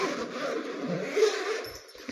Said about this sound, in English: let me try to unzip it